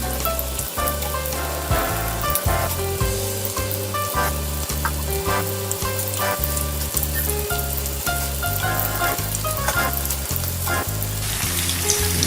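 Risoles deep-frying in hot oil until golden brown, a dense continuous bubbling sizzle with a steady rhythmic low thumping pattern underneath, close and loud, no voices.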